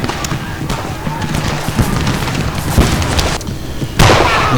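Close-range musket volley in a Seven Years' War–era video game battle between Austrian and opposing lines, a loud crackling barrage of shots and booms, with a sharper burst near the end.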